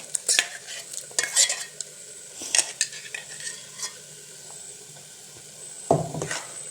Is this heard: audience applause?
no